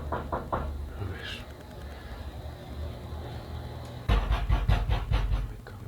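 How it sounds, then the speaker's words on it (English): Knocking on a door, a few quick muffled raps early on and a louder cluster of knocks near the end, with background noise in between. "Okay, so you're knocking outside his door."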